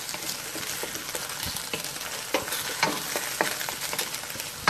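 Eggs sizzle and crackle in a hot wok for beef fried rice, a steady bright frying hiss with scattered pops and the scrape of stirring, no talking.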